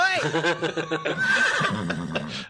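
A horse whinnies in a long, wavering neigh amid busy street-like sound, with snorting bursts and overlapping voices or harmonic cries through the two and a half seconds.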